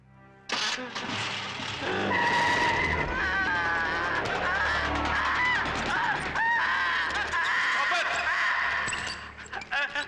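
A car speeds away with tires skidding, a loud sustained screech with engine roar and shifting squealing tones running for several seconds, with a brief honk-like tone mixed in.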